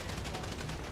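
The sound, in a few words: gunfire in a video game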